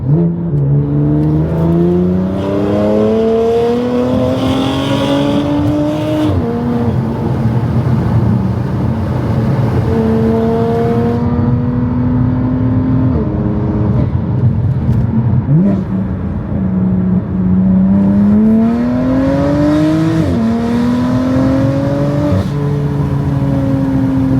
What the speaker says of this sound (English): the Valvetronic exhaust really does give it that 2JZ or GTR sound